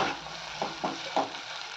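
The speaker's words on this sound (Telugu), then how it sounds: "ఇలా అల్లాన్ని మంచిగా ఫ్రై చేసుకోవాలి" Ginger paste sizzles in hot oil in a pan on the stove, a steady hiss with a few soft scraping stirs spaced across the moment, close and moderately loud, with no talking.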